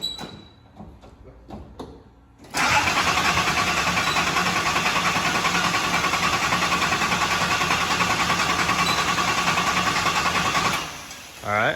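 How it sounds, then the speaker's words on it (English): A 1981 Datsun 280ZX engine with a new fuel injector cranks briefly, then catches and runs loudly at a steady idle for about eight seconds before cutting out, heard up close. "here's the start with the new fuel injector"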